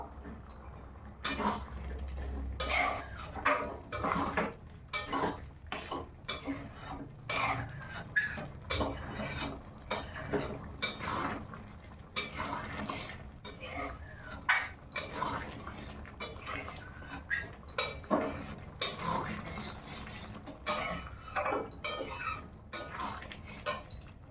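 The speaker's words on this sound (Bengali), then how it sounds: "এবার তরকারিটা নামিয়ে নেবো" A pot of curry comes off a home kitchen stove amid steady clinks and scrapes of metal cookware and utensils, with irregular rattles that continue throughout, close and moderately quiet.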